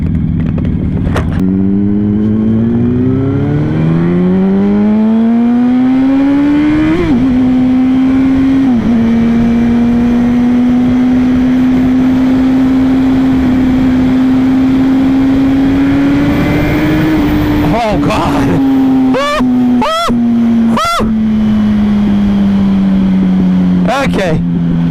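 A 2008 Yamaha R1 1000cc motorcycle engine drones loudly and continuously while riding, its pitch rising and holding as it accelerates, with sharp bursts of wind noise near the end; a rider speaks over it.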